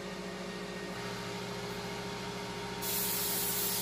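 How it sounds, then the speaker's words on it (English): A quiet steady air fryer hum, then a sudden hissing burst of aerosol cooking spray onto chicken near the end. "spray the chicken"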